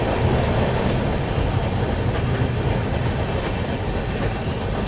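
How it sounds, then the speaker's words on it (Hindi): The Vivek Express passes on a parallel track, a loud, sustained rumble of rolling wheels and rattling coaches close by, with faint clickety-clack running through it and no speech. "ये थी विवेक एक्सप्रेस, ये भी पैरेलल ओवरटेक मार गई।"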